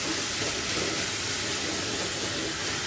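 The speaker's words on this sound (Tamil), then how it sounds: "இப்போ வந்து நல்லா வதக்கணும் வெங்காயத்தையும் தக்காளியும்" Onions and tomatoes sautéing in a pan for goat intestine mutton gravy, a steady dense hiss and sizzle held at even loudness throughout, with no talking.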